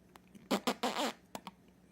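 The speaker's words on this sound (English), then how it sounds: "I know your fart too." A fart sounds in several quick, close, sputtering bursts, with a couple of fainter puffs before and after.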